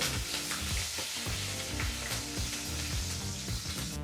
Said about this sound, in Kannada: ಜಜ್ಜಿದಂಥ ಬೆಳ್ಳುಳ್ಳಿ ಜೊತೆಗೆ ಸ್ವಲ್ಪನೇ ಸ್ವಲ್ಪ ಕರ್ಬೇವಿನ ಸೊಪ್ಪನ್ನು ಸಹ ಹಾಕಿ ಒಂದು ನಿಮಿಷಗಳ ಕಾಲ ಫ್ರೈ ಮಾಡ್ಕೋಬೇಕಾಗತ್ತೆ